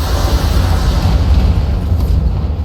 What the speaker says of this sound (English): Hey, ammo explosion, that'll do.